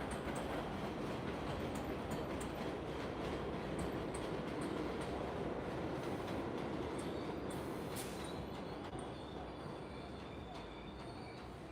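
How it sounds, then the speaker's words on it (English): A train rolls past continuously, a dense steady rumble with rattling wheels and occasional high squeals, fairly near and filling the whole stretch without pause. "after this train passes"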